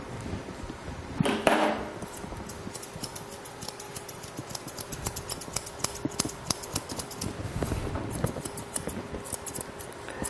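Dog grooming scissors snip steadily through a dog's fur around the eyes, a quick train of light metallic clicks, close and continuous, with a brief rustling burst early on.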